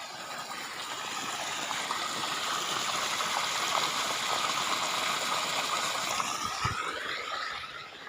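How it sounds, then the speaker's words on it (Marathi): Water gushes from a well pump motor in a strong, continuous flow, a loud roaring splash that holds steady for several seconds. "मोटर चालू झाली आणि आपली पाचची मोटर आहे हे बघा प्रेशर बघा मोठ धारीचं"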